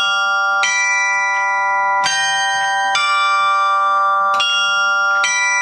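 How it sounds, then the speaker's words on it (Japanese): A bell rings five times at uneven intervals, each strike bright and clear with a long, shimmering tone that carries into the next. "素敵な鐘の音色でございました"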